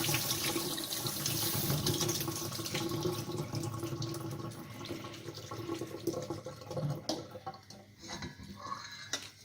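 Cooked pasta being drained pours out as a rushing splash of water into a sink, loud at first and then thinning into uneven trickles and drips.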